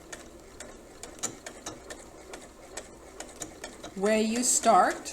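A sewing machine backstitches at the start of a curved seam, a close mechanical whir with a faint ticking rhythm throughout, swelling louder over the last second, while a person talks over it.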